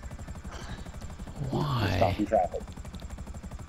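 A helicopter in a video game gives off a steady, rapid rotor chop throughout, with people talking over it.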